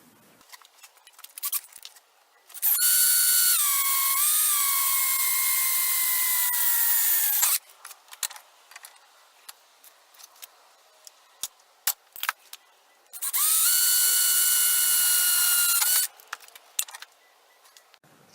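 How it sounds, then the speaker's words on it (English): Two long bursts of a drill with a 5/32 bit whining through wood for a six-pack beer carrier, the first about five seconds and the second about three, with quieter handling clatter around them. "I'm using a 5/32 little bolt and a 5/32 drill bit to drill these holes."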